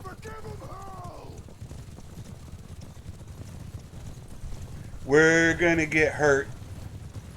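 A horse gallops in Mount and Blade 2 Bannerlord, its hoofbeats a steady low drumming throughout, quiet under a brief spoken line early on and a louder burst of talk near the end.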